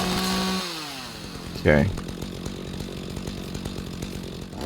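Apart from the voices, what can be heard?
chainsaw cutting a tree in the video game Rising World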